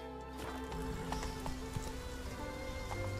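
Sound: horse hooves in a video game

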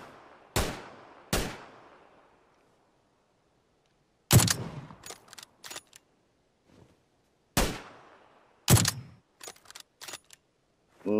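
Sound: gunfire at a vehicle in a video game

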